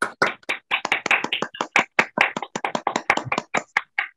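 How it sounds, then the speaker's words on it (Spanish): Clapping hands in quick, uneven succession, crisp and close, sounding like a small group or a single person applauding for a guest speaker at a scientific talk streamed online, with no voices. "Un aplauso, por favor, para el doctor Dani Page"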